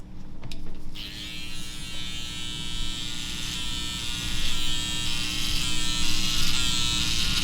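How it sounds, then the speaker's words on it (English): Electric hair trimmer buzzing steadily and close while cutting hair during a fade, a loud continuous drone that wavers slightly as it moves through the hair. "After this step right here, I'm gonna grab my trimmer and we're gonna debulk all that right there"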